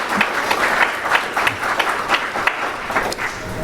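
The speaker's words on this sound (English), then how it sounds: "Please give yourselves and each other a nice round of applause." A round of applause from the audience at a pilgrimage gathering, steady moderate clapping with scattered louder claps that carries on throughout.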